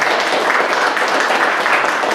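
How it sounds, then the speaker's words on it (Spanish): An audience applauds steadily for a couple of seconds, a dense wash of clapping with no pauses. "a quienes yo les pido un aplauso para el licenciado"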